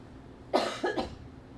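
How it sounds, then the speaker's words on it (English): A single person coughs twice in quick succession, close and fairly loud, against quiet room noise. "I've got like a sneeze and a cough, both like stuck in my throat"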